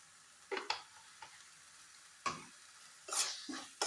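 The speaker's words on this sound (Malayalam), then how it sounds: "നല്ലോണം ഒന്ന് മിക്സ് ചെയ്ത് കൊടുക്കുക." Turmeric stirred into a simmering tomato rasam in a pot, with a few soft scraping spoon strokes and light clinks over a faint bubbling sizzle, close and quiet.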